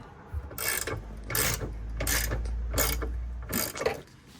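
A ratchet wrench backs bolts out of a rear bumper bracket on a Subaru STI, giving several rapid clicking bursts in a steady rhythm, close and clear, with no talking.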